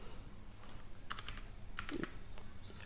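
Keys tapped on a computer keyboard while SQL code is typed, short clusters of light, close clicks over a quiet background hum.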